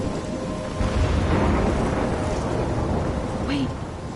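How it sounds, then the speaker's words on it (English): A thunderstorm rolls through the video game Life is Strange, with a dense, steady wash of heavy rain and a low rumble of thunder. It is loud and continuous, with faint voice-like sounds over it. "trapped in a storm?"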